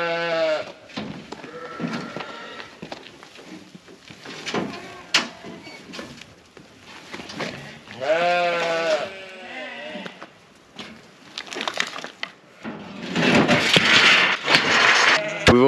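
Several sheep bleat repeatedly, some close and loud, others further off, with wavering calls overlapping across the clip amid outdoor noise.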